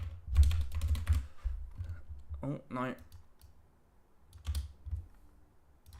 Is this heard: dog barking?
no